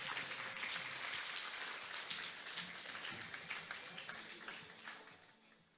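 Audience at a constitutional reform forum applauding as an honoured guest departs, a broad sustained round of clapping that slowly thins out toward the end, with some voices in the room.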